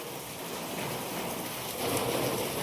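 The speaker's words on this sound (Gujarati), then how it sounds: "હાલ થોડોક ધીમો પડ્યો વરસાદ" Heavy rain falls in Vadnagar as it begins to ease off, a dense, steady hiss of drops on surfaces that swells slightly toward the end.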